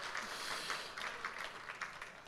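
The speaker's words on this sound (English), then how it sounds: "Give me a big round of applause, ladies and gentlemen" Faint, distant audience applause at the Tauranga Business Awards, a soft continuous patter of clapping with no voices over it, lasting a couple of seconds.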